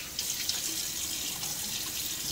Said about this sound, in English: now I'm going to throw some water in my face just to rehydrate